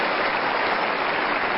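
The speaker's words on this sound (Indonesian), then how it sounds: "Boleh tepuk tangan untuk periode kedua" An audience applauds an Indonesian official's second term in office, a dense, steady wash of many hands clapping at once, loud and continuous with no voices over it.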